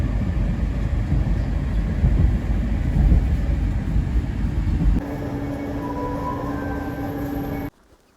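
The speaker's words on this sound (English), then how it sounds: "here we are in Moscow, Russia. They have an extensive, famous metro system." A Moscow metro train runs above ground, its steady loud rumble and rolling wheel noise filling the space before shifting to a quieter, smoother hum with a faint tonal whine, then cutting off abruptly.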